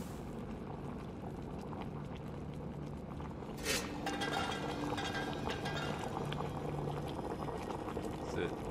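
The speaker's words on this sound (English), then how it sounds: "Boil to extract." Liquid boiling in the video game Amnesia: Rebirth, a steady low bubbling and churning that grows a little fuller partway through, with a faint tone running beneath it.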